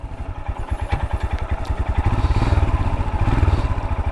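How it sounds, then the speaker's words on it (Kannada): A Royal Enfield Himalayan motorcycle on a ride thumps out a loud, close, bassy exhaust note, its rapid steady pulses building slightly as the engine pulls, with no talking. "ಈ ಗಾಡೀಲಿ ಇನ್ನೊಂದೇನೆಂದರೆ ಎಕ್ಸಾಸ್ಟ್ ನೋಟು ಚೆನ್ನಾಗಿದೆ ಅಲ್ಲ"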